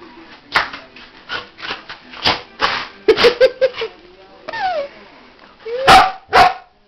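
A small dog barks in a string of short, sharp yaps and a few higher whining yips, close by, with people talking in between.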